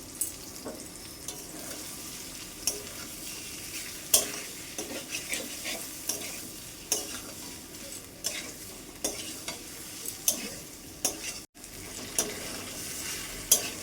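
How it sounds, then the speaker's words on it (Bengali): Fried potatoes and cauliflower being sautéed in a pan: a steady oily sizzle runs throughout, with repeated sharp scrapes and clacks of a spatula stirring at close range, and no talking. "এবারে ভেজে রাখা আলু আর ফুলকপিগুলো দিয়ে দেবো। এটা দেওয়ার পর আবার একটু আমি কষিয়ে নেব ভালোভাবে।"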